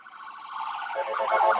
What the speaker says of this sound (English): It's a little ambulance.